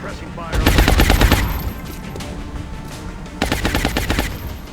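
Suppressing automatic gunfire in a video game: two loud sustained bursts of rapid shots, the first about a second long and the second near the end, separated by quieter game background.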